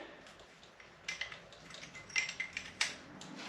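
Brake pad being removed from a front brake caliper on a Polaris RZR, heard as light metallic clicks and clinks that start after a quiet second and come close and irregular.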